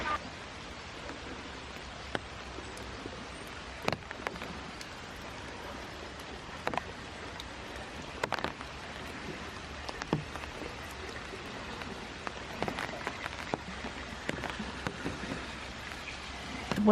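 Light rain falls steadily on a Japanese city street, making a constant soft hiss broken by scattered sharper drips and taps.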